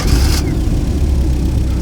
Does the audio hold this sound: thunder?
no